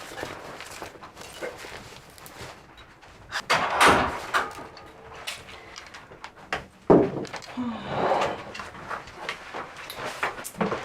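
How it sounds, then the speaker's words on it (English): A door opens or shuts with a couple of solid thuds and a bang among footsteps and room noise, with people talking nearby. "Door."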